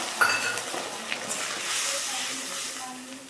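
Thinned tomato sauce poured into a pan of frying egg chilli with vegetables, a soft sizzle and bubbling with light utensil clinks, gradually steadying as it spreads.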